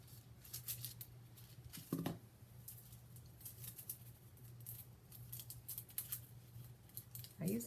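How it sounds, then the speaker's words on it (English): Scissors cut through layered paper die cuts decorated with gold glimmer foil, giving a steady run of quiet, crisp snips with soft rustling that continues through the whole stretch. "I usually cut this with a blade and I'm doing it with scissors."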